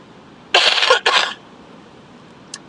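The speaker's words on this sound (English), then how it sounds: "Sorry for coughing." Two close, loud coughing bursts from an adult in a quiet room, one long and one shorter, followed by silence and a faint click.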